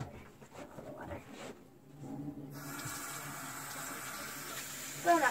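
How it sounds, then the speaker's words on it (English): Water runs from a tap into a sink at a steady, soft hiss that starts partway through and continues, with faint talking and handling noises at the start and a brief clatter near the end. "Turn on the water."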